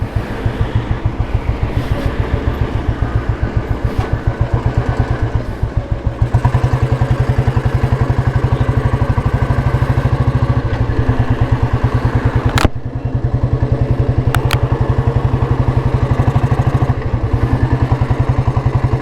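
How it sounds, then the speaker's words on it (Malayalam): A Royal Enfield Bullet engine with slight knocking runs steadily and loud, a rapid even thump with a rattling, clattering edge, and a couple of sharp clicks late on, no voices. "ചെറിയ രീതിയിൽ വണ്ടിക്ക് എൻജിൻ നോക്കിങ് സൗണ്ട് തുടങ്ങിയിട്ടുണ്ട് കേട്ടോ."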